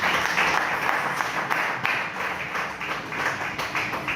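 A church congregation breaks into dense, sustained applause, a loud wash of many hands clapping together for several seconds.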